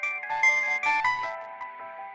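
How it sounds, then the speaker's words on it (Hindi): A mobile phone ringtone rings out as a bright, melodic electronic tune, loud and close, playing continuously for about two seconds with no voices over it. "सर, फोन तो उठाइए।"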